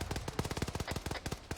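Rapid automatic gunfire during a military field training exercise, a loud close burst of roughly twenty sharp, evenly spaced shots with a short pause partway through, heard alone.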